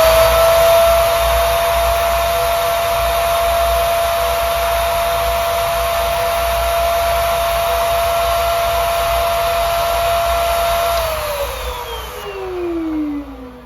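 An Okki Nokki record cleaning machine runs its vacuum, sucking rinse fluid off a vinyl record with a loud, steady whine that holds for about eleven seconds, then drops in pitch and fades as the motor winds down.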